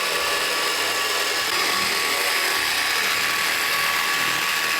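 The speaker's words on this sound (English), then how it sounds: "Dad is going to be using the power tool to cut this one" A power tool cuts through foam on a treehouse build, a loud continuous high-pitched whir with a steady grinding texture that stays constant for the whole stretch, close and unbroken by talk.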